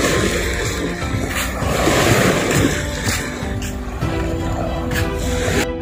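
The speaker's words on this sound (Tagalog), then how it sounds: "Isan sa sound na lang sa dagat." Sea waves washing onto the beach at Atabayan, Tigbauan, Iloilo, a rolling surf wash that swells and recedes amid gusty wind noise on the microphone, fairly close and steady.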